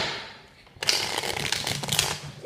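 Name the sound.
tarot cards being shuffled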